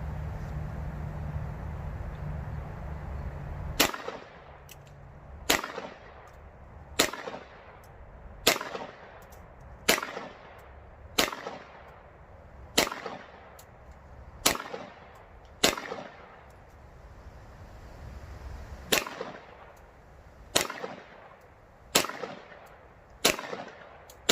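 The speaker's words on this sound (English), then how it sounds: "Let's shoot this gun and check it out." A CZ75 SP-01 Tactical pistol fires about fourteen sharp, loud shots at a steady, unhurried pace, each crack ringing briefly. A low hum comes just before the first shot.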